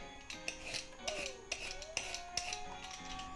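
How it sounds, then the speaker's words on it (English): A vegetable peeler scrapes the skin off a celeriac in quick, close strokes: a steady series of short rasping pulls with faint clinks from the metal blade, no voices. "I find the peeler is the easiest thing to give this a clean"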